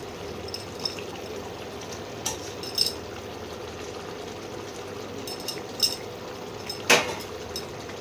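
Lamb kasa curry with garam masala and chopped coriander being stirred in a pot, with quiet scraping and sparse metallic clinks of the spoon against the pan over a soft background hiss.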